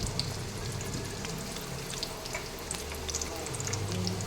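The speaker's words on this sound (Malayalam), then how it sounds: "അതിലേക്ക് ഇനി സവാള അരിഞ്ഞത് ഇട്ട് കൊടുക്കാം." Sliced onions frying in hot coconut oil, giving a continuous close sizzle with faint crackles throughout.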